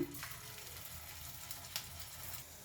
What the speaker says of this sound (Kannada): ಮೀಡಿಯಮ್ ಫ್ಲೇಮಲ್ಲೇ ಫ್ರೈ ಮಾಡ್ಕೊಳ್ಳೋಣ